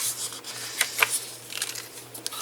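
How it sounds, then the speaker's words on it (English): Paper being folded and burnished along score lines while making a double-twist fold: soft, close rubbing and scraping strokes with a few brief crisp creases, over a steady low hum. "So I'm going to fold and burnish."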